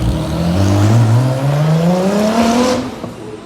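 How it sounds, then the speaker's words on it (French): A Radical race car spins its tyres in a burnout on a street in Monaco during Grand Prix weekend, the engine note climbing steadily and loudly for several seconds before it eases off. "Il a fait un burn juste devant moi."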